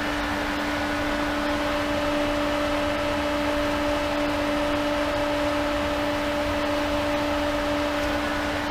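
A pool pump running at full speed under maximum flow, a steady, unbroken electric hum with a constant tonal whine and broadband hiss, with no pauses or change in level.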